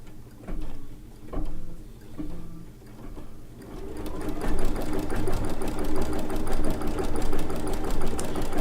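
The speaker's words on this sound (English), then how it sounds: "we're going to yarn embroidery couch, the letter B for baby lock" A Baby Lock embroidery machine couches yarn while stitching a letter B, starting with a few separate whirring passes and then settling into a loud, fast, continuous rhythmic needle chatter.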